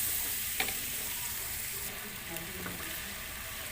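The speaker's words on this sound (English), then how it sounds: "I'll sprinkle a little salt so it gets fast. And saute for about 2 to 3 minutes" Chopped tomatoes with salt sautéing in a pan for fish biryani, giving a steady close sizzle with light stirring scrapes and an occasional soft clink, with no talking over it.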